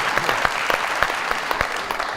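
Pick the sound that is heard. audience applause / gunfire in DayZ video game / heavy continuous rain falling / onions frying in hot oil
audience applause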